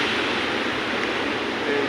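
Sea waves surge against the shore during a surge of seawater onto the road, making a continuous loud broadband roar and wash with no gaps, close by and steady throughout.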